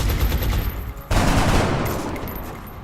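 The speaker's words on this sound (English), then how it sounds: "go ahead and open fire" Loud bursts of gunfire in the turn-based tactics game XCOM, a rattling volley that cuts briefly then resumes with a heavier blast and fades out, no voices over it.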